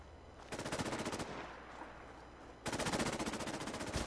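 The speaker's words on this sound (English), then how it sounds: "Who's that shooting?" Automatic gunfire in Fallout 4, two loud rapid bursts of evenly spaced shots, the first lasting under a second and the second running steadily to the end, with a quieter rumbling lull between.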